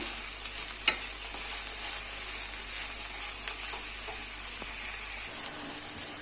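Pieces of cluster bean sizzle in a frying pan while being stirred, a steady close hiss with a sharp scrape or tap near the start and faint utensil clicks throughout, no talking.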